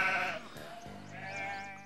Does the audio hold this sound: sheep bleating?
yes